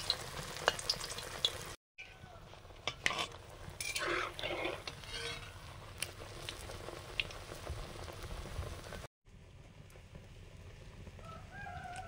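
Oil sizzles steadily as pumpkin leaves and kulekhara greens fry in a wok, with occasional stirring clatter and a rooster crowing faintly in the background.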